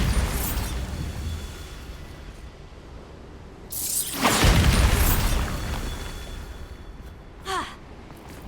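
A Bombarda spell in Hogwarts Legacy goes off with a rushing boom swelling midway, followed by a brief sharp magical zing, with game ambience around it.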